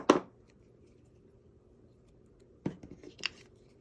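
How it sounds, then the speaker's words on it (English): Scissors snip through paper: one crisp cut at the start, then after a quiet pause a short cluster of snips and rustles, close and fairly soft. "I am going to trim this with my scissors"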